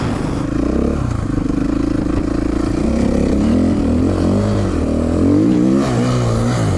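A KTM 450 dirt bike revs hard and steadily, its rear wheel spinning and scrabbling for grip on a very steep hill during a Canadian dual sport ride, the engine note rising and falling close and loud throughout.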